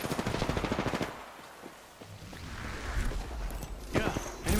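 Automatic weapon fire in Apex Legends opens with a fast, loud burst of evenly spaced shots, then drops to lighter scattered noise before more shots return near the end.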